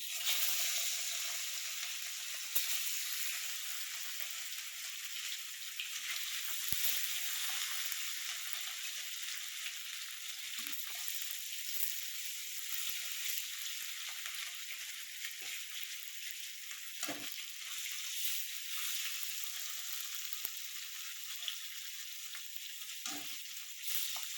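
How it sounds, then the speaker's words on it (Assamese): Rohu fish pieces fry in hot mustard oil, a dense continuous sizzle close up, with occasional soft clicks and pops from stirring and no talking. "তেলখিনি গৰম হৈ গৈছে, এতিয়া মই লাহে লাহে মাছখিনি ভাজি ল'ম।"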